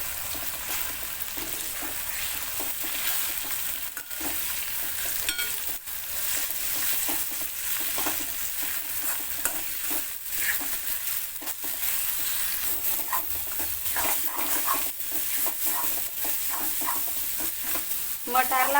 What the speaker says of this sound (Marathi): मटारला छान तेलामध्ये परतून घ्यायचं आहे